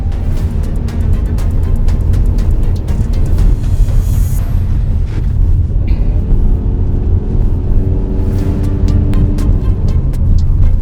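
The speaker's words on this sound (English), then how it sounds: "the drone of a CVT when it's going up a hill" A steady, droning engine hum with low rumble holds constant throughout, a 2025 Mitsubishi Outlander Sport's CVT transmission whining under load on an uphill climb, heard from inside the cabin.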